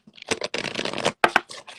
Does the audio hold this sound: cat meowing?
no